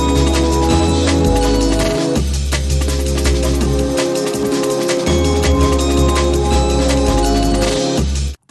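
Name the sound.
jungle pad sample played through the Amigo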